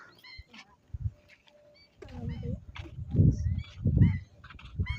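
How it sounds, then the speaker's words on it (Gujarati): Goose-like honks and calls from several birds at a village lake, some near and loud, others fainter, with outdoor background noise. "તળાવમાં ઘણા બધા પક્ષી છે"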